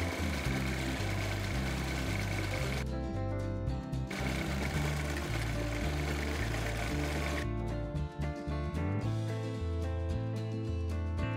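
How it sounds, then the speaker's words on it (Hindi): A sewing machine stitches the side seam of a girl's dress top, running in a steady close mechanical whir with a rapid rhythmic chatter and two brief pauses where the needle stops. "दूसरी साइड भी एक सिलाई लगा लेंगे।"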